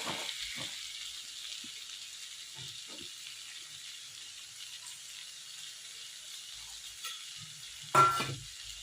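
Raw banana pieces fry in a pan for a banana gravy, giving a steady, fairly quiet sizzle with a few soft stirring scrapes and one louder clatter near the end.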